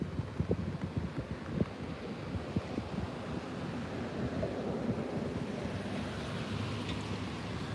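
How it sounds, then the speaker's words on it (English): Summer wind blowing outdoors on an early Canadian evening, a steady rushing buffet against the microphone with some gusty thumps early on, continuous and moderately loud with no talk. "So there is a little bit of wind."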